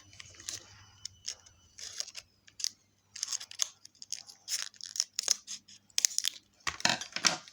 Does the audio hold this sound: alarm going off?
no